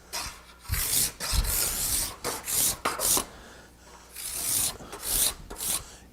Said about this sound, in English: I have to scrape it, so I'm going to give it a little card scraping here